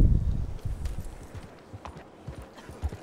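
Horse hooves clip-clop at a quick gallop in Red Dead Redemption 2, a steady rhythmic run of close hoofbeats with faint background ambience.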